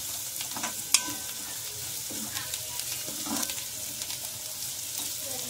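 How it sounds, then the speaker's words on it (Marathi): Methi bhaji ingredients frying in oil in a pan: a constant soft sizzle close by, broken by occasional scraping stirs and one sharp clink, with no voices. "आता हे चांगलं सगळं ना आपण तेलामध्ये फ्राय करून घेऊ चांगलं।"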